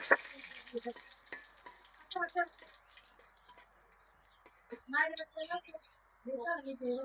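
Hot mustard oil sizzles and crackles in a wok as dried red chillies, bay leaves and mustard seeds are dropped in, with a person talking intermittently over the frying.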